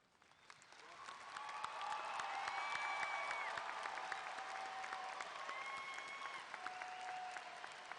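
A large crowd at a high school graduation ceremony applauds honor graduates, the clapping swelling after a second and holding steady and even, with faint cheering and some tonal sounds over it.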